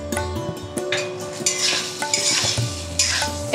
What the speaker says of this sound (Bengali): সয়াবিনটাকে আমি ভালো করে ভেজে নিচ্ছি